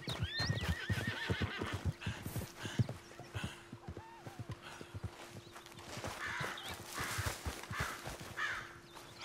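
A horse in Red Dead Redemption 2 whinnies loudly near the start, with hoofbeats clopping throughout and scattered rustling and faint voices in the background.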